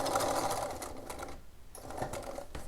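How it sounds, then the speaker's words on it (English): A sewing machine runs steadily while stitching through the folded lining of a romper waistband, a loud continuous whir with a brief pause before it starts up again, and nobody speaking. "We're stitching through that fold in the lining of the waistband."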